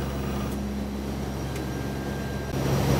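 Steady, loud engine drone of a research airplane taking off over Greenland, heard from inside the cabin as a constant low roar that swells slightly louder toward the end, with no voices.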